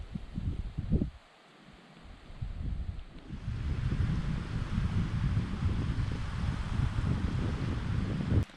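Steady wind by a lake in Armenia, partly sheltered by a wall of willows, rushing and buffeting the microphone, quieter at first and then swelling into a constant low roar.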